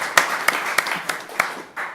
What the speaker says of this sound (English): So round of applause for Dawn for joining us here.